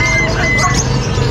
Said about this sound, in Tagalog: May mga ibon, no? African lovebirds.